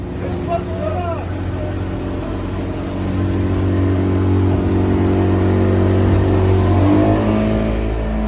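A motorboat engine drones steadily on the water near Luxor, Egypt, on the Nile's west bank route, a constant low hum that grows a little louder partway through, with faint background noise and no clear talk.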